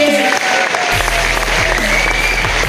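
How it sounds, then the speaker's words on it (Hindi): Loud audience applause at a DXN annual recognition night in Maharashtra, steady clapping mixed with a sustained low hum and tonal music-like lines running underneath. "जोरदार तालियां"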